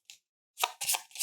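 A deck of event cards for the board game Fossilis being shuffled by hand, short crisp rustling and riffling bursts close up, separated by brief silences.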